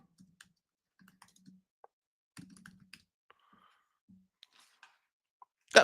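Sparse, irregular computer keyboard taps and clicks, quiet and close, separated by short silences, ending in a louder burst of noise.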